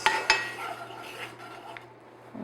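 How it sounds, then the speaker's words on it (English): Ground cinnamon mixed into apple tart ingredients in a bowl, opening with two sharp utensil clinks against the bowl followed by soft continuous stirring and scraping over a low background hum. "And then I'm just going to mix that"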